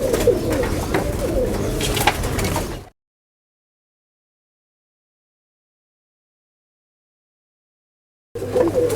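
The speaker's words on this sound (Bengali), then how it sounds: "এটা আপনার গিরিবাজ কবুতর রাজশাহী গিরিবাজ" Rajshahi Giribaj pigeons coo and rustle close by for about three seconds. Silence follows for several seconds before the same cooing picks up again at the end.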